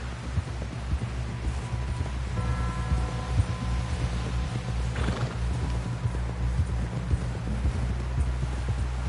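Horse hooves clip-clopping in the video game Red Dead Redemption, a steady rhythmic run of footfalls under low rumbling ambience and a faint whinny-like tone, with no voices.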